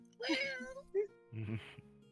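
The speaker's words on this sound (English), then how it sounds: "I hear cat." A cat meows a few times in an indoor setting, the calls mid-loud and mixed with a person talking nearby.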